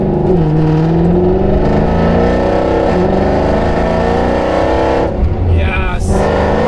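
A Mercedes W204 C63 AMG with a newly fitted X-pipe exhaust revs loudly and close, a deep sustained engine drone with rising and falling pitch, followed by a quick blip near the end.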